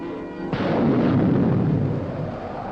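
A deep, booming explosion sound effect for the birth of a new planet erupts suddenly after a brief musical lead-in and rolls on as a loud, sustained rumble.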